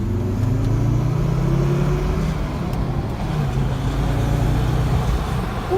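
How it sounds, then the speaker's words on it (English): A 2004 Volvo S60 R with 114,000 miles accelerates hard in second gear, its engine droning steadily with rising tones as the turbo spools, heard loud from inside the cabin with no talking. "Hear the turbo."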